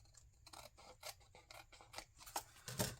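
Scissors make a series of quick, crisp cuts through a paper junk mail envelope, trimming off a thin white edge. The snips are close, quiet and irregularly spaced, about six or seven of them, with no voices.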